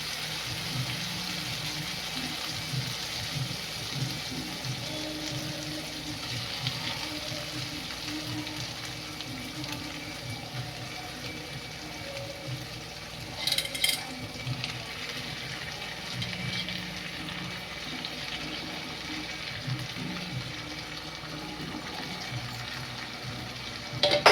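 Small Rui fish fry in oil, a continuous close crackling sizzle with faint clinks and a brief louder spatter partway through, and no voices.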